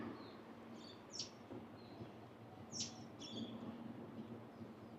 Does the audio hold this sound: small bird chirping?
yes